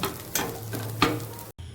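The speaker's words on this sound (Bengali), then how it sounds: "অল্প একটু তেল দিয়ে দিলাম রান্না হয়ে গেছে এই যে ভাজা ভাজা হয়ে গেছে" Food fries in a little oil with a soft sizzle, broken by a few sharp scraping stirs of a utensil in the pan. The sound is brief and fairly quiet, with no talking.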